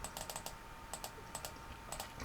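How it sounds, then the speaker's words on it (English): A computer keyboard clicks under steady typing while a Linux command line is used, quick bursts of light key taps with short pauses, quiet and near, no voices. "hold down the control key and press the left arrow, it does the same backwards"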